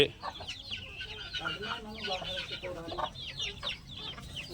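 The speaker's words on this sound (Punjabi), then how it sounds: "ਛੋਟੇ ਛੋਟੇ ਮੁਰਗੇ" Several small chickens cluck and peep in a busy chorus nearby at a village bird keeper's, overlapping chirps and clucks continuing throughout at moderate loudness.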